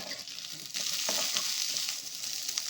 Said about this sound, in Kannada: ಹಾಕ್ಬಿಟ್ಟು ಫ್ರೈ ಮಾಡ್ಕೊಂಡಿರ್ತೀನಿ.